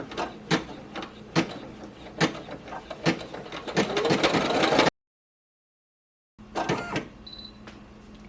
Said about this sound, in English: now that it's done embroidering